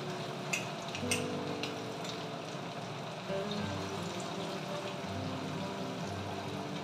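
Fish frying in a pan over a medium flame, a steady close sizzle with soft crackles and occasional stirring scrapes, continuous and moderately quiet with no talking.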